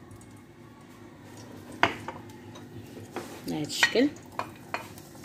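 Chopped onion fries in oil with kofta in a pan, a soft sizzle beneath clinking utensil strikes and stirring scrapes, while a person speaks briefly over the cooking.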